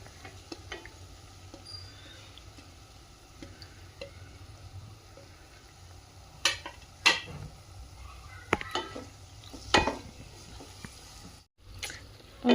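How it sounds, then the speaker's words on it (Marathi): Paneer with chilli being stirred and mixed in a pan for paneer bhurji, heard as soft scraping and clinks of a spoon against the pan, with a few sharper knocks over a quiet, steady background. "आपण ह्याच्यामध्ये आता पनीर मिक्स करून घेऊ।"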